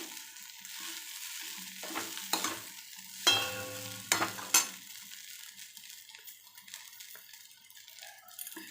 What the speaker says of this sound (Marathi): आता पोहे एकजीव करून घेऊया आपण असं मिश्रण छान असं एकजूट करून घेऊया आपण सगळं